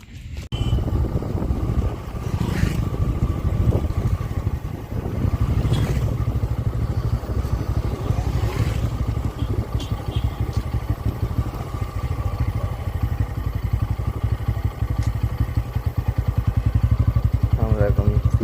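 A motorcycle engine runs steadily on a rural village road, a loud, close, continuous rumble with wind noise and light rattling throughout.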